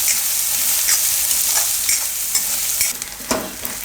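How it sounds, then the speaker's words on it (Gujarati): Onions sizzle loudly in hot oil while being stirred. The steady frying hiss is broken by a series of scraping, clattering stir strokes that grow more frequent toward the end. "ડુંગળી થોડીક વાર પાકવા દે હું તેલમાં, થોડોક એનો કલર ચેન્જ થઈ જાય"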